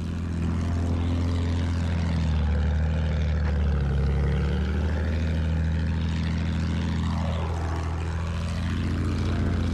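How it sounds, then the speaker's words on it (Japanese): An enemy airplane flying overhead in a video game: a continuous propeller engine drone, loud and steady throughout, with a slight pitch sweep near the end and no talk. "敵の飛行機だ上にいる"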